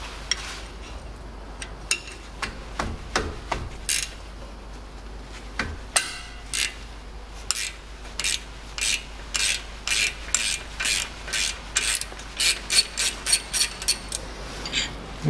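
A ratchet wrench loosens the 13 mm bolts and 17 mm guide pins on the front brake caliper of a Land Rover Discovery 4 3.0, with sharp metallic clicking that starts sporadic and settles into steady, rapid, evenly spaced bursts close by.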